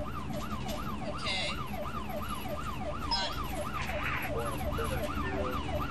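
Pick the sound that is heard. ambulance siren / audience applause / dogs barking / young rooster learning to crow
ambulance siren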